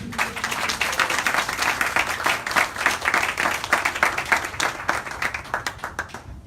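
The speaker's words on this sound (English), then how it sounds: "Applaud the people of our city." An audience at a political fundraiser applauds with loud, close, dense clapping that stays lively before thinning slightly toward the end.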